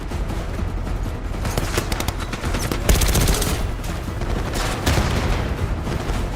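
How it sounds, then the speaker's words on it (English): Machine-gun fire from the Call of Duty Black Ops 6 video game rattles in sustained, dense volleys. Loud rapid shots overlap with heavy booms in a constant battlefield din, with no voices. "Machine gun."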